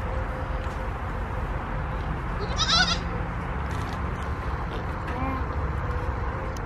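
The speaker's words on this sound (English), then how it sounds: "Grayson, do you like the goats?" Goats bleat at a campsite on a summer camping trip, with one loud, wavering bleat close by in the middle over steady background noise.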